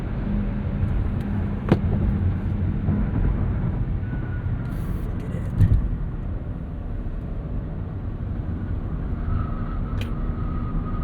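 Turbocharged three-cylinder 2025 Nissan Rogue crossover accelerating hard in sport mode up a highway entrance ramp, a steady low engine drone and road rumble heard from inside the cabin, continuous with a few faint clicks.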